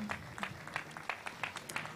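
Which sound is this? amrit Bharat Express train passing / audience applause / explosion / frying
audience applause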